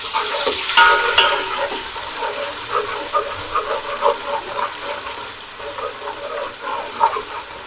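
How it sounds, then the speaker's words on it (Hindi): Ginger garlic paste fries in a pan with browned onions while it is stirred, close up. A steady sizzle runs throughout, with repeated scraping and stirring strokes that swell and fade. No one speaks. "अब इसमें हम डालेंगे अदरक लहसुन का पेस्ट"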